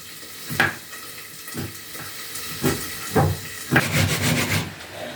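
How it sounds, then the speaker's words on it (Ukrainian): Pork cracklings fry in a pan while being stirred, with a steady sizzle under a few sharp scraping stirs and louder bursts of crackle near the end, close by and with no talking. "Шкварки ще в нас висмажуються, бо ще е, нам я хочу такі сухенькі шкварки"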